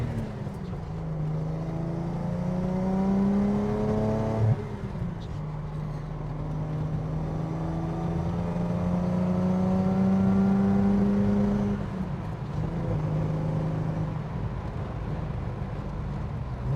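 A 1972 Datsun 240Z with a straight-six engine pulls hard along a back road, heard from inside the car. The engine climbs through rising revs, drops at each gear change, then climbs again, loud and steady over wind noise.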